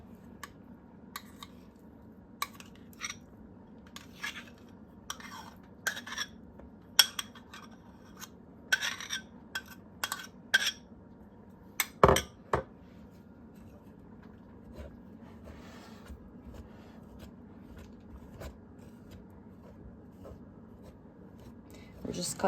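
Cold butter being cut into flour in a bowl for buttermilk biscuit dough: irregular, soft scraping and tapping strokes of a utensil, close but fairly quiet, spread across a long stretch with pauses.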